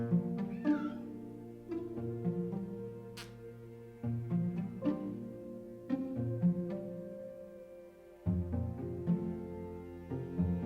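Two tiny kittens meow in a cozy countryside living room, a steady run of close, repeated cries with no talk.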